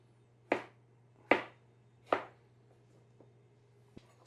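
A knife gives garlic cloves a rough chop on a cutting board: three sharp, evenly spaced thuds close by, followed by a few faint taps.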